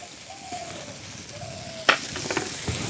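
Chili, turmeric and coriander sizzling in white oil in a pan, a soft steady frying hiss with a sharp stirring clatter midway, while a dove coos faintly in the background.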